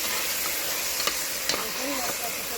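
Chicken hits spiced masala in a hot pan, a loud, even hiss and sizzle with a couple of brief clinks, close up and with no talking.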